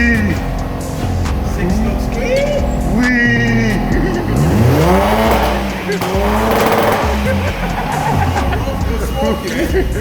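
Four-cylinder car engine revs up and down repeatedly, rising and falling in pitch, loud and close, with voices and crowd noise mixed in throughout.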